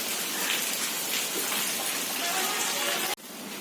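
Heavy rain pouring down in a dense, steady hiss that cuts off abruptly near the end.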